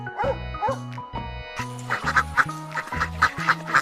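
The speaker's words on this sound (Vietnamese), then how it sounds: "chú vịt con" A duckling gives a run of quick, bright quacks over a bouncy music beat, the calls coming in short repeated bursts, close and fairly loud.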